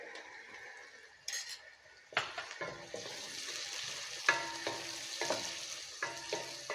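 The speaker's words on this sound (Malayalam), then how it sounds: "ഉള്ളി നന്നായിട്ട് വഴണ്ട് വരണം" Chopped onions with a little salt sizzle and fry in a pan for tomato mutton biryani, with steady crackling and repeated scrapes and clinks of a stirring spoon against the pan.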